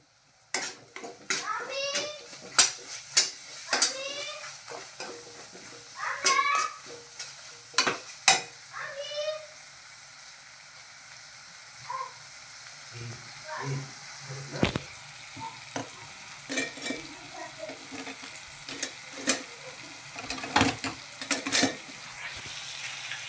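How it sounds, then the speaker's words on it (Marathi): Masala gravy for egg pulao sizzles and fries in a pan while being stirred, with repeated sharp scraping strokes of a spoon against the pan over a steady frying hiss, loud and close. "आणि आता आपण टाकूया एक मसाला ग्रेव्ही टाकतोय बघा"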